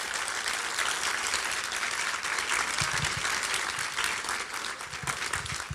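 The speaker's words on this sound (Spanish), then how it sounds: "Denle un fuerte aplauso al Señor" A church congregation claps loudly in sustained applause during a sermon, a dense even wash of hands with faint crowd murmur beneath.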